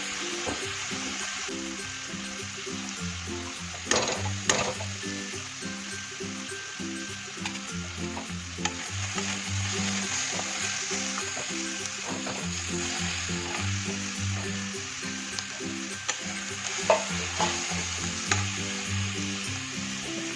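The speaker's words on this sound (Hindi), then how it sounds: "तो अब यहाँ डालूंगे अदरक।" Ginger sizzles steadily as it fries in a pan, with intermittent scraping and clinks as it is stirred, continuous and fairly close with no talking.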